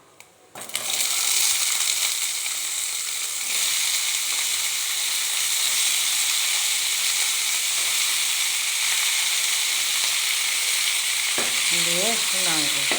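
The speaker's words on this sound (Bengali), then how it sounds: "এবার এর মধ্যে দিয়ে দেবো কুচানো টমেটো" Chopped tomatoes dropped into hot oil in a wok burst into a loud, steady, close sizzle that holds for several seconds, with a brief quieter moment before the splash and faint stirring near the end.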